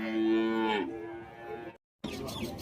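A cow lows loudly and close at a cattle market, one long sustained moo that fades out, followed by brief silence and then the noisy hubbub of the livestock market.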